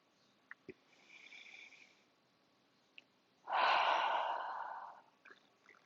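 During seated chair yoga stretches, a soft breath is drawn in and then a long, fuller exhale follows, close and audible in a quiet room, with a few small clicks around it and no speech.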